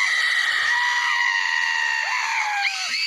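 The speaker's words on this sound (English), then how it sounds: "He screamed." A single long, high-pitched scream sound effect holds loud and steady for about three seconds, sliding slightly in pitch near the end and heard alone without talk.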